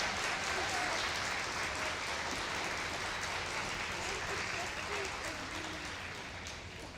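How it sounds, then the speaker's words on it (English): Audience applause at a kindergarten celebration, a steady broad wash of many hands clapping at once that fades slightly toward the end, with faint voices mixed in. "Let's give them a round of applause."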